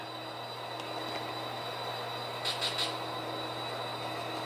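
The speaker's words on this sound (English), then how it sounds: "We got a train going through uh, Cajon Pass there." Low steady rumble of a container freight train passing through Cajon Pass at a distance, with a few brief high metallic squeals near the end; no talking.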